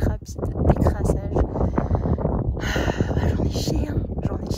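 Wind blowing hard into the microphone during a fast hike: loud, low, rumbling gusts that buffet unevenly throughout, with someone speaking underneath.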